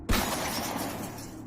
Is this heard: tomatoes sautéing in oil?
no